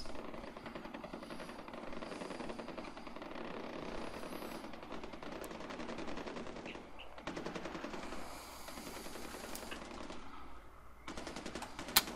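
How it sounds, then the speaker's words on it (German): Weapons fired in Far Cry 4: rapid automatic gunfire bursts, loud and close, rattling almost continuously with brief pauses and a few sharper single shots. "da werden schon die Waffen ordentlich geprobt bei ihm"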